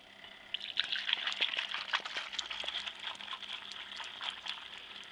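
Soapy, foamy water poured through a funnel into a soap fire extinguisher tank, a continuous watery trickle with small splashy drips and bubbling, close and moderately loud with no talking.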